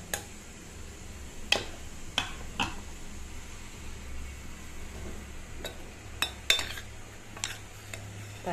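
A pressure cooker lid being opened after cooking lentils for sambar, several sharp metallic clinks and clacks spaced irregularly over a quiet kitchen background, with no talk.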